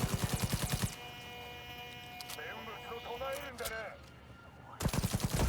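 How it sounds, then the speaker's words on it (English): Gunfire in the video game Cyberpunk, played on Xbox Series S: rapid bursts of automatic shots open and close the clip, with quieter game sounds and effects in between. "We can just shoot anywhere near them with this gun."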